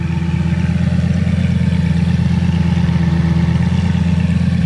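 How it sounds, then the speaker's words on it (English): A rebuilt Lamborghini Gallardo with a newly fitted exhaust idles close by, a steady, even low rumble that holds without revving throughout. "Exhaust is on. Just pulled it out of the shop. Definitely a lot quieter at idle."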